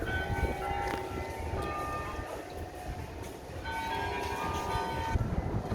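Church bells ringing out in Amsterdam, clear tones drifting over a steady city rumble, heard at a distance for several seconds.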